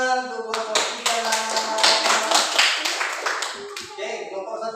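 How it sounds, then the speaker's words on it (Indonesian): A classroom group claps hands together for their own team, crisp rhythmic claps mixed with voices chanting or singing along over several seconds. "Tepuk tangan untuk kelompok kita."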